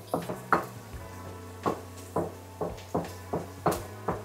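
Ginger is being sautéed in a pot for sinigang na bulalo, heard as a string of sharp clinks and scrapes of a utensil against the pot over a faint steady background hum. It is fairly quiet and has no talk.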